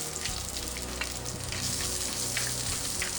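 Shallots sizzle and fry steadily in hot coconut oil in a pan, a close, even crackle with fine popping and no voices.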